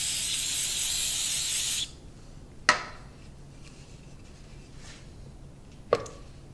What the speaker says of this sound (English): I'm going to use the accelerator and spray it on the bottom of the wine glass.